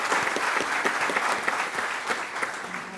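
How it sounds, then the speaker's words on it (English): An audience at a county commission meeting claps to honor long-serving Lake County employees, producing a brief, dense burst of applause with scattered sharper claps throughout. "if we could do a round of applause for them"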